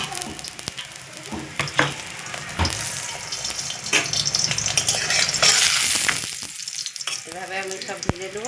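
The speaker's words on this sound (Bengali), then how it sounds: "এভাবে আমি সব ভেজে দেবো একটা একটা করে।" Rolled dough rounds frying in hot oil in a wok, a loud close sizzle that swells and bubbles, with several sharp utensil clinks and scrapes.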